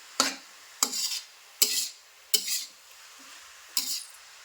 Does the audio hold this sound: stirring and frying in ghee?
yes